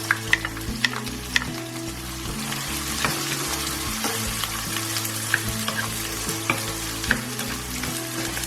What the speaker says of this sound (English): We're now going to fry these onions till they're nice and golden brown